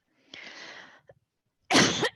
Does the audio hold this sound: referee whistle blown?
no